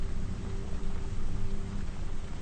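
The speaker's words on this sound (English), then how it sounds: "Listen to the rain on the window." Steady rain against a window, a dense, even hiss of drops that stays constant and fairly loud throughout, with no voices.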